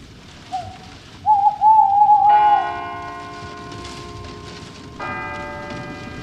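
A bell strikes twice with a long ringing hum between, the second stroke arriving a few seconds later, after a brief wavering tone at the start.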